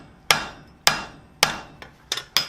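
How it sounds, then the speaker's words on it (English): A blacksmith hammers hot steel on the horn of an anvil while forging a waist into a flower coat hook, six sharp ringing strikes at a steady pace, close and alone. "we're going to come down about 2 inches or 50 mil, and we're going to start forging in a waist"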